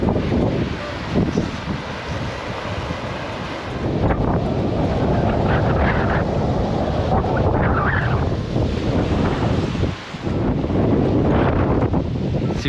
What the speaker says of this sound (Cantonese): 真係吹到斜晒啲水，